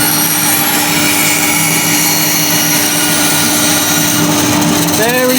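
Bandsaw cutting a curved mouth shape in a workshop while a dust extractor runs, a loud constant droning whine close by, with a brief rising squeal near the end.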